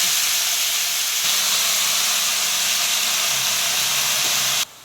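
Spring onion greens and garlic sizzle in hot oil in a pan. A loud, constant hiss runs close and unbroken for nearly five seconds, then cuts off abruptly.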